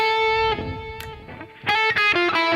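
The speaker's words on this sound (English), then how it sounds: "maybe I'm going to add some distortion now to highlight this" Electric guitar with distortion playing a harmonic minor scale phrase, sustained notes, then a brief pause and a louder run of distorted, harmonically rich notes toward the end.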